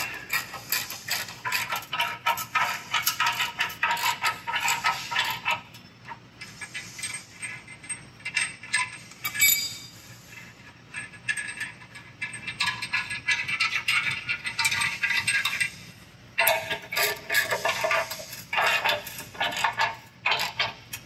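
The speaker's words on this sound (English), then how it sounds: "It's crucial to make sure we're tight against the frame before we tighten these bolts on the side." A ratchet wrench tightens bolts on a Dissent LC100 modular rear bumper (V3), giving close, rapid clicking in long bursts separated by brief pauses.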